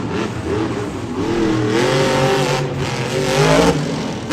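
A Monster Jam monster truck, Vendetta, revs its engine loudly at an arena freestyle event in San Diego, a rising and falling roar that swells over several seconds.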